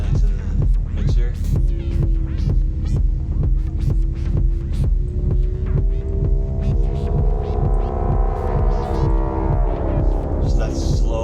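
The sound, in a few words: slowly modulated synthesizer techno voice in VCV Rack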